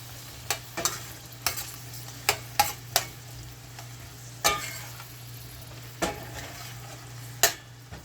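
Cucumber and saltfish sauté together in a pan, a quiet steady sizzle punctuated by about a dozen crisp spoon scrapes and clicks against the metal, with a faint low hum behind.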